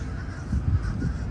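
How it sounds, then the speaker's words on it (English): Crows caw in a brief, harsh burst from a large flock gathered around the walls of a Disney park, heard at middle distance over crowd ambience. "I can hear the birds."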